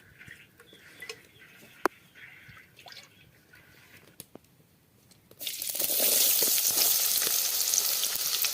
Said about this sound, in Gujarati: ડુંગળી નાખી દીધી છે આપણે હલાઈ તેલમાં પાકવા દેવી પડશે